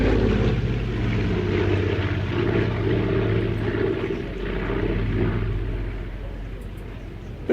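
Propeller aircraft at an airshow and reenactment weekend, a loud steady engine drone sustained throughout, slowly swelling and easing as it passes.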